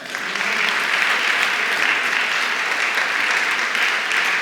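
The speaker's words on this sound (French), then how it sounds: "Est-ce qu'ensemble, on peut applaudir l'œuvre de Jésus ?" Church congregation applauding together during a sermon, a steady, dense wash of many hands clapping that holds loud and even throughout without any voices over it.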